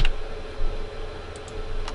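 Computer keyboard typing during network appliance setup, a few soft, quick key clicks scattered over a quiet room hum.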